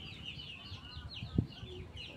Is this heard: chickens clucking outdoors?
yes